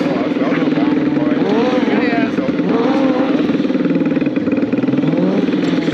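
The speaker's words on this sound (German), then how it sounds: "Power Donuts hier mit viel Gas, viel Tempo auf engstem Kreis." A Kawasaki stunt motorcycle at the Kawasaki Days 2022 in Speyer revs hard and steadily while spinning power donuts in a tight circle, a loud continuous engine drone with shifting pitch and a voice talking over it.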